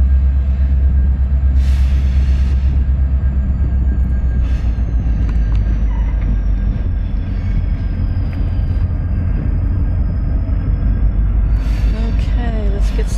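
Train with a test car passing a rural railroad crossing, a loud continuous heavy rumble of wheels and cars with scattered clanks and squeals, a long horn-like tone running through it.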